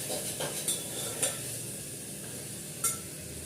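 Mashed tomatoes with spices frying in a pan, a steady close sizzle broken by a few sharp clinks of a spoon stirring against the metal.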